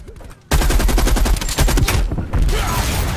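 Loud rapid hipfire gunshots from a gun in Call of Duty Black Ops Cold War hardcore free-for-all. The shots burst in after a short quiet start and form a fast close automatic stream with a brief dip midway.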